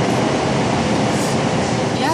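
A subway metro train runs with a steady, loud rumble and rattle of the cars throughout, with no break in the noise and a possible faint voice beneath it.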